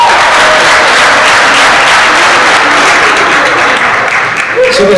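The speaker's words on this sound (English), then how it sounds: "Lucia a huge round of applause as we get started" Loud, dense applause from an audience greeting four candidates taking the stage at a political candidate forum in a venue on the Columbia River, sustained clapping that fills the room throughout.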